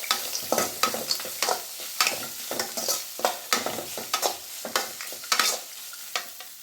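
Onion fries in a hot pan while a spoon stirs it, giving a steady soft sizzle broken by repeated scraping strokes at a quick, even rhythm, close and alone.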